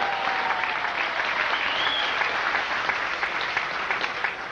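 A crowd breaks into sustained, fairly loud applause after a performance at a Los Angeles show, the clapping dense and unbroken throughout with faint cheering mixed in.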